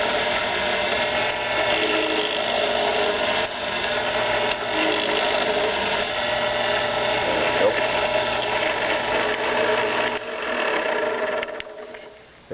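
A 0.76-inch drill bit bores all the way through a metal pellet mold block, a steady, loud mechanical whir with a grinding edge that holds evenly before winding down at the end.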